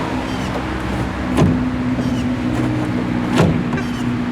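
A 1966 Cannara car door thumps shut twice, two short heavy slams about two seconds apart over a steady low idling hum.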